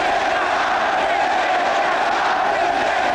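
A large crowd in Portugal in 1975 acclaims a leader returned from exile in Paris, a dense steady roar of voices and cheering that holds without a break.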